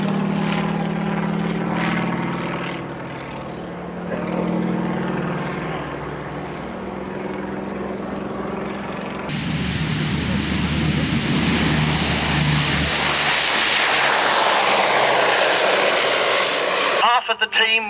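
Yak propeller aircraft of a display team flying at the 1998 St Mawgan air show, a steady engine drone that swells into a loud, close roaring pass midway, with a voice talking over the start.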